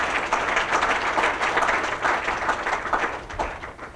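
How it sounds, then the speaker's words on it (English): An audience at a school campus opening for grades 7 to 12 bursts into sustained applause, dense clapping from a crowd that continues loudly and then tapers slightly at the end. "let's give it a round of applause"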